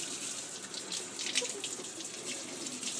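A tap runs steadily while a bantam Polish chicken is washed under it, a close, constant rushing splash of water at moderate volume with no talking.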